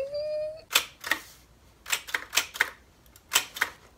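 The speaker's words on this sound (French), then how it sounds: "je suis l'heureux propriétaire d'une machine à écrire" An old typewriter clacks through a series of sharp, close key strikes in uneven bursts with short gaps, after a brief steady tone at the start.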